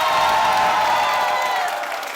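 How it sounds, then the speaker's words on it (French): Studio audience at a Saturday television variety show in Burkina Faso applauding and cheering, a loud dense crowd wash with whoops, steady then easing slightly toward the end. "Je vais vous demander de vous applaudir bien plus fort que cela."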